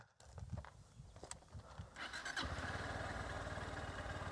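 A fuel-injected motorcycle running on E20 petrol starts up, then settles into a steady, fairly quiet idle held at high revs.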